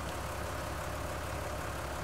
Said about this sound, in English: So, jump into this tractor